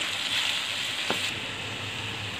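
Onions sizzle in a pan over a high flame for Andhra-style chicken curry, an even, continuous frying hiss heard close with no voices.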